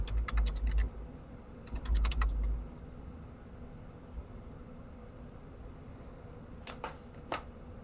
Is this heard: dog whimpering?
no